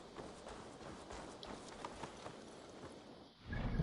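Horse hooves clip-clop at a walk in Assassin's Creed Valhalla, a faint steady rhythm of hoofbeats under ambient game sound, with a low rumble swelling at the end.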